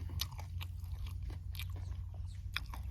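Close, crisp crunching and biting of pork mask skin, a few sharp crackly bites spaced out over steady chewing, with no talking.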